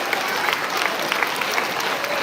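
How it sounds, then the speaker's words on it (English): At a school's final assembly of the year, the audience gives a teacher a round of applause: dense, continuous clapping from a large crowd that fills the hall at a steady level. "can we give Mr. Ian a round of applause, please?"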